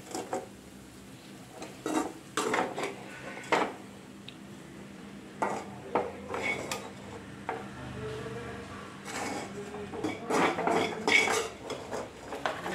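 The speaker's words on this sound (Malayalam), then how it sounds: "ഇട്ട് നമുക്കൊന്ന് ഇളക്കി കൊടുക്കാം" Vindaloo masala stirred in a pan with a spoon, giving irregular metallic clinks and scrapes against the pan over a low, quiet background.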